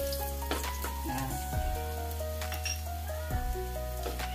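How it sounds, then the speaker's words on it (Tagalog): Garlic dropped into hot cooking oil fizzes with a steady, dense sizzle that carries through the whole stretch, close and continuous with slight surges as it settles. "mainit na po ang mantika natin. Pagka mainit na po, pwede na po natin ilagay yung bawang."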